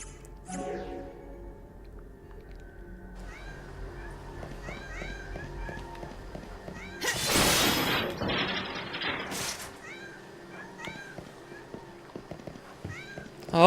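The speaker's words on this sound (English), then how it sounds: "Oh my god, cats, stop." Several house cats meow off and on at close range, over the steady hum of a room where a Final Fantasy XIII game plays, with a burst of louder noise in the middle.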